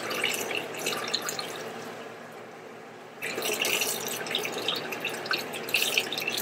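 Tap water runs into an open can of canned beans to rinse them, a continuous splashing and dripping flow that pauses briefly midway and then resumes, close and moderately loud.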